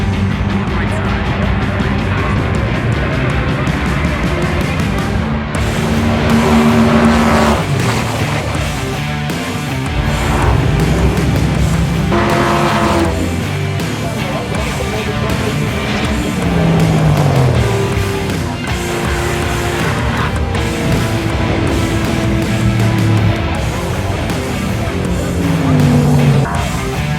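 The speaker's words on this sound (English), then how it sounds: "Up next, it is Duramax powered Chevelle." A Duramax diesel-powered Chevelle drag race car at a drag strip in Orlando, with repeated loud engine revs and rising pitch sweeps, voices and crowd noise mixed in throughout.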